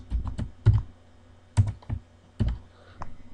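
Keys clatter on a computer keyboard during data entry in Microsoft Excel, a handful of close, sharp clicks and thuds spaced irregularly with short pauses between them, heard alone without talk.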